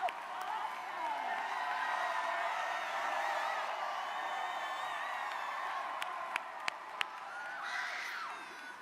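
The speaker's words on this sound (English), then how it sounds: "let us applaud our young leaders, our first-time voters" A large crowd at a Philadelphia campaign rally applauds and cheers young leaders and first-time voters, with steady clapping and whoops sustained throughout, a few sharp louder claps near the end.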